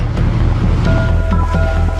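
Sea waves on the Arabian Sea near Sir Creek, a loud continuous wash of surf mixed with wind noise, heard up close and steady throughout.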